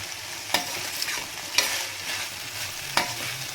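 Rice stirred and fried in ghee and oil in a pan, a soft continuous sizzle broken by three distinct scraping strokes of the spoon, close and alone.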